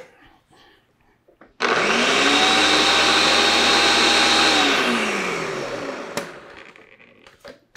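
Blender whirring as it mixes a creamy drink with two ounces of rum, starting abruptly into a loud, steady motor roar with a shifting pitch for about four seconds before winding down, with brief talk and clatter around it.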